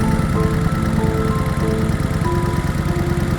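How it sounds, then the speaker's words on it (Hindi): A motorbike engine runs steadily and loudly as Baba rides through the city, a continuous droning hum with a faint tonal whine on top, holding even for the whole stretch. "बाबा बाइक चलाकर पूरे शहर में घूमते हैं।"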